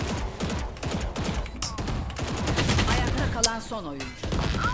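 Rapid bursts of Valorant gunfire crackle through a tense match, shots overlapping with impacts and ability sound effects, loud and dense throughout with brief lulls before a final volley.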